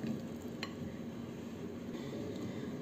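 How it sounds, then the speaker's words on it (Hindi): Amrakhand ingredients stirred and mixed in a bowl, a soft continuous scraping and swishing with a few faint clinks of the spoon, quiet and close. "इन सारी चीज़ों को अच्छे से हम मिक्स कर लेंगे।"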